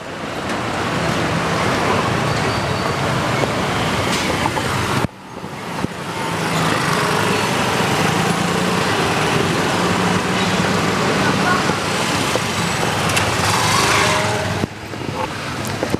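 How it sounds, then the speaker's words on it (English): Stalled traffic jam on a city street in Aizawl during business hours, a continuous broadband rumble of idling and creeping engines with no horns, steady and fairly loud, with two brief dips in level. "we are stuck in the traffic jam as usual during business days and business hours"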